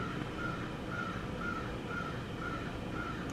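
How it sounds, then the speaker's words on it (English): Crows caw in a steady, evenly spaced series of about six calls, heard somewhat distant over a constant broadband background hiss. "these crows are messing with me."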